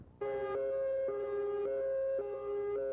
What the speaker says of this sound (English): That siren signals the third stage of a day-long drill at the nearby Farley nuclear plant.